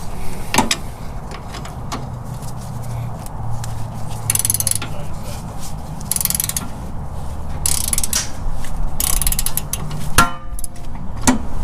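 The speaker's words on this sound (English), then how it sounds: "that nut for the long bolt is a 19mm, so Jordan just getting on it with a big long 19mm box end wrench." Long 19mm box end wrench turning the nut on a long bolt of a car's front upper control arm bushing, giving repeated metallic clicks and scrapes close up over a steady background hum, with brief talk in places.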